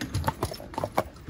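Hooves of driven horses clip-clop in a steady walking rhythm on a slippery bridge at a stable, a handful of crisp, close strikes with no talk.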